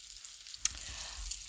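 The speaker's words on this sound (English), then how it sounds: "I'm still frying, so if y'all hear some sounds in the background," Food fries quietly in a pan in the background, a low, steady sizzle with one brief sharp clink partway through.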